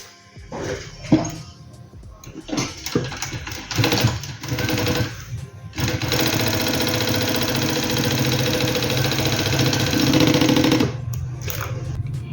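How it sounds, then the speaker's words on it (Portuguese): Sewing machine topstitching a fabric clutch, a few short stop-start runs of stitching, then a long steady mechanical whir for several seconds before it halts. "E eu vou passar um pesponto aqui também."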